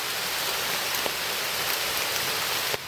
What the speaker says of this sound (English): Rain coming down, I'm perfectly dry.